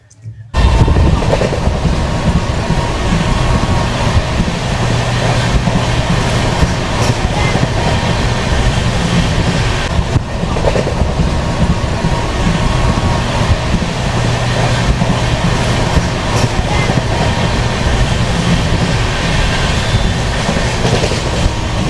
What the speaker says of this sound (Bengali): মানে ট্রেনের নাম যেমন দুরন্ত, স্পিডও সেরকম দুরন্ত, সহজে চলছে, একবার দেখুন।